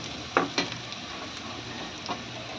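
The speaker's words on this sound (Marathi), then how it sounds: "त्याच तेलावरती आपण उभा चिरलेला कांदा आणि त्यामध्ये दोन हिरवी मिरची आपण घातली आहे तर ही आपल्याला छान असं लालसर भाजून घ्यायचं आहे" Sliced onion and two green chillies fry in oil, giving a soft, even sizzle with a few quick stirring knocks and scrapes near the start and end.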